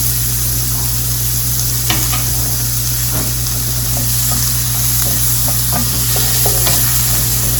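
Onions sautéing in butter in a pan give a loud, steady, close sizzle with a constant hiss, broken by a few light stirring clicks and scrapes, with no voices.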